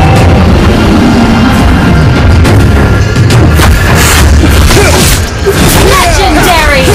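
Loud, dense game explosion blast as a turret is destroyed in Mobile Legends, booming impacts layered with battle effects and a game announcer voice over continuous action.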